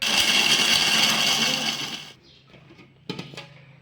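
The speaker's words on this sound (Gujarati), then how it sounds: "મિક્સરમાં માંડવી કરી નાખું" A mixer grinder grinding peanuts roars loudly for about two seconds, then cuts out, leaving quiet clinks and a sharp knock or two.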